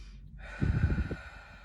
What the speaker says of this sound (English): take a deep breath in and out